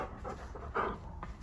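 A dog pants close by and lets out a short, wavering vocal cry in the middle, brief and fairly soft, set against quiet indoor room noise.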